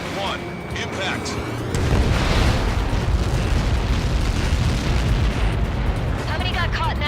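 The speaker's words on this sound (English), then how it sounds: "How many got caught in that explosion?" A massive missile blast from Helios projectiles in Ace Combat 7 erupts into a long, loud roaring rumble that sustains for several seconds, with radio voices talking before and over it.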